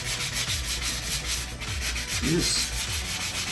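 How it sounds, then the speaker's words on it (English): Rhythmic scraping of a sanding block with about 220-grit sandpaper rubbed back and forth across a repaired wall, steady and close, with a brief spoken phrase. "now we're just sanding. You got a little sanding block."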